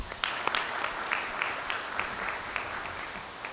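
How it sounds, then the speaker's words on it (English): An audience at a steel and alloy industry symposium applauding steadily, a dense wash of clapping that holds at an even level throughout with no voices above it. "A big round of applause, please."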